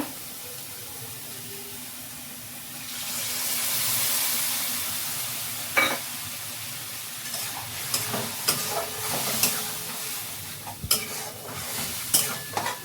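Ginger garlic paste sizzles in a pan for mutton biryani, with a steady frying hiss that swells, then gives way to irregular spoon scrapes and clinks as the paste is stirred close by.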